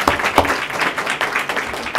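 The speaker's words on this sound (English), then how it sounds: "let's give her a round of applause to recognize her" Steady crowd applause fills the room at a school board of education meeting, many hands clapping in a dense, even wash with no voices on top.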